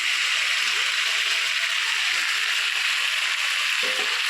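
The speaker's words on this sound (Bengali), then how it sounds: "ভালো করে কষিয়ে নিয়ে যে আলুগুলো তুলে রেখেছিলাম ভাজা আলুগুলো এগুলো দিয়ে দেবো" Fried potatoes tipped into a pan of ginger-garlic masala for a chicken curry, raising a loud, steady, close sizzle that fills the whole stretch, with faint stirring knocks underneath and no voices.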